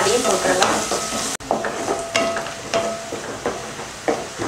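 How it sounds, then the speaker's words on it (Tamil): Onions, mustard seeds, urad dal and curry leaves fry and crackle in hot oil for a Tamil chutney tempering, with steady sizzling, sharp pops and intermittent stirring scrapes, close up and with no talking. "சட்னி தாளிக்கிறதுக்கு எண்ணெய் ஊற்றி எண்ணெய் காஞ்சிருச்சு, அதில் கடுகுளுந்து கொஞ்சம், கருவேப்பிலை, ரெண்டு பெரிய வெங்காயம் நீல வாக்கில் கட் பண்ணியிருக்கேன், அதையும் போட்டுடலாம்."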